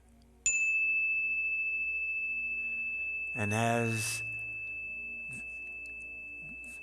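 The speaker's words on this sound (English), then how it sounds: "the sound of the bell fades" A meditation bell struck once rings out with a clear, steady tone that slowly fades over several seconds, while a voice briefly speaks over the lingering ring.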